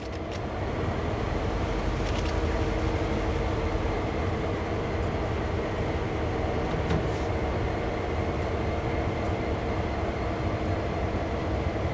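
A GP-38 diesel locomotive on the Sand Patch line in Train Sim World 4 throttling up, a loud, steady engine rumble with constant low drone and faint metallic clicks throughout.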